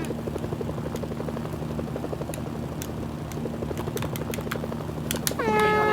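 A helicopter in the video game Mercenaries: Playground of Destruction gives a steady, continuous rotor drone with scattered sharp clicks, and a short rising electronic chirp sounds at the very end.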